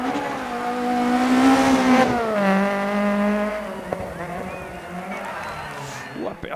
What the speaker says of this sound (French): on a tapé à l'arrière gauche, vous avez bien entendu et vu l'accident